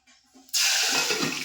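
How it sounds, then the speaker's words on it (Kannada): Water splashes down onto salt suddenly after a quiet moment, a steady loud pour that continues to the end. "ಉಪ್ಪಿಗೆ ಒಂದು ಸ್ವಲ್ಪ ನೀರು ಹಾಕ್ತಾರೆ"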